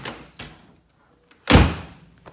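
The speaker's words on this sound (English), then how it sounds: "Doors shut and close as they should." A 1967 Chevrolet Corvette in a garage: a couple of light latch clicks and a brief pause lead into one loud, solid door thunk up close.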